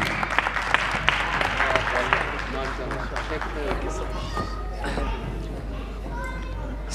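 Applause from a mushaira audience at a Pakistani community poetry evening in Portsmouth, a dense wash of clapping that fades gradually over several seconds, with murmured voices and chatter mixed in throughout.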